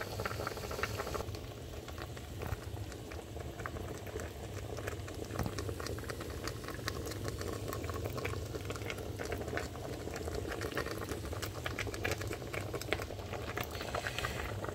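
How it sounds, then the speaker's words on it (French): A meat sauce for spicy gumbo bubbles in a pot, a steady close simmer of dense popping and spattering that carries on throughout with no voices over it. "Notre viande est en train de cuire."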